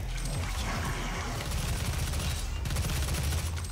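Assault rifle fire in the Doom video game, with continuous loud, rapid bursts of automatic gunfire and mechanical clatter running throughout, with no talk.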